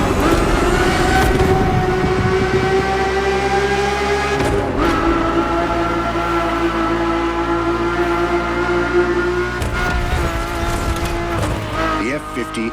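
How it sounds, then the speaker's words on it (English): Ferrari F50 with a naturally aspirated V12 derived from Formula One, driven in The Crew Motorfest, a loud sustained engine howl with rising and falling revs and brief tire squeal, heard close and continuous. "The F50's core is a normally aspirated V12 that came straight from a Formula One."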